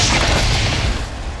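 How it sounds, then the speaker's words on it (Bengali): A loud, close bomb blast on a railway line, a single booming explosion that rolls off into a fading rumble. "রেল লাইনে বোমা ফেটেছে"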